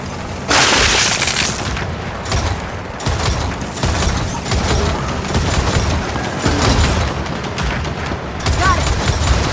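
Deployed turret firing in Gears of War 4 Horde mode: loud, sustained bursts of rapid gunfire with booming impacts, continuous for most of the stretch with brief dips, and a voice briefly heard amid the shooting.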